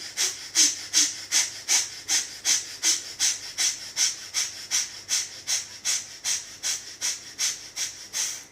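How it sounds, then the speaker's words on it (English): Steady rhythmic breathing through the nostrils with the mouth closed, about twenty even inhale-exhale cycles that sound close and airy with a soft hiss, and no other sound. "start breathing with your mouth closed"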